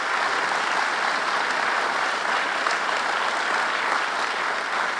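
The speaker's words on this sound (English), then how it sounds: "Let's give him a big round of applause." A crowd at an announcement event for a new Schenectady train station gives Governor Cuomo a big round of applause, sustained, even clapping that holds steady throughout.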